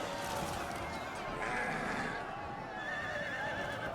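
Horses neigh and whinny amid a cavalry charge in the Total War: Attila battle game, a dense battle din with distant clatter, under steady commentary talk.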